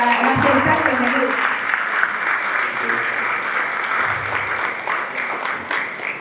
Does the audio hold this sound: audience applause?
yes